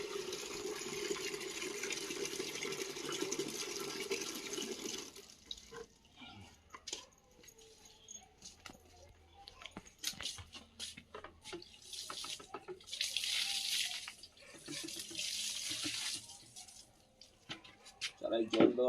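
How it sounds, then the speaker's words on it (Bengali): Water is poured over marigold seedlings in a garden bed, a splashing, faucet-like stream running steadily for about five seconds, then fading into quieter intermittent trickles and rustling with louder bursts of flow later. "এখন গাঁদা ফুলের চারায় একটু জল দেবো, কেননা চারা তুলতে গেলে চারায় আগে একটু জল দিতে হয়।"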